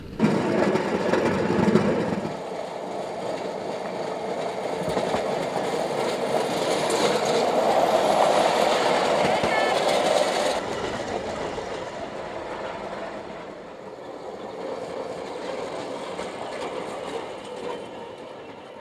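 A steam-operated veteran train rolls along a little-used railway section, a steady rumbling roar with mechanical rattling that swells, then fades somewhat toward the end.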